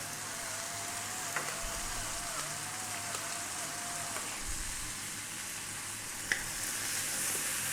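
Ripe tomato with salt, black pepper, cumin powder and turmeric sizzles steadily in a pan, a continuous close crackling hiss with a few faint stirring knocks and no talk.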